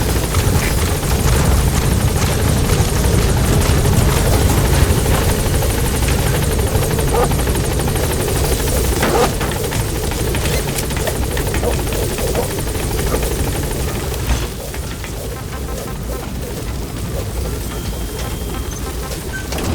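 The Pequod helicopter in Metal Gear Solid V: The Phantom Pain, a loud, close, continuous rotor thrum and turbine whine as it lands and lifts off, easing slightly in the last few seconds.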